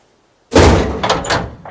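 The heavy lid of a bearproof trash can in theHunter: Call of the Wild closes with a single loud slam after a moment of silence, followed by a short rattle.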